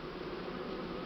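Honeybees buzz steadily and densely around a hive in an apiary where a swarm is being settled with a Buckfast queen, a continuous close hum with no voices.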